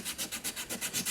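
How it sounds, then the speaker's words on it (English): Emery cloth scrubs back and forth inside a rusty U-joint yoke from a John Deere 640, giving about ten even, rasping strokes in a steady rhythm, close up with no talk. "Now we're just going to take some emery cloth and clean this out"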